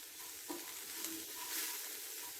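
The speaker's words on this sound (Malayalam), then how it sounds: "ഇനി നമുക്കിത് നല്ലതുപോലെ ഒന്ന് മിക്സ് ചെയ്ത് കൊടുക്കാം." Grated coconut being stirred into an ivy gourd and peanut stir-fry in a pan, a soft continuous sizzle with faint stirring, quiet and without talk.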